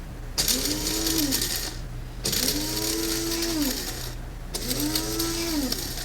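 An electric grinder crushing whole spices in three separate bursts, each a loud whirring buzz that spins up, holds, then stops, with short quiet gaps between them.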